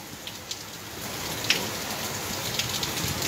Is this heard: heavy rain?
yes